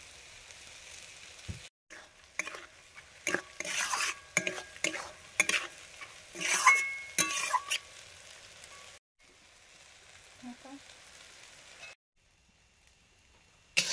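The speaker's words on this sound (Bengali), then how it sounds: "চিচিঙ্গা ভাজাও হয়ে গেছে" Snake gourd frying in a pan, heard as intermittent stirring scrapes and a soft sizzle, with a brief quieter stretch of hiss partway through and near silence toward the end.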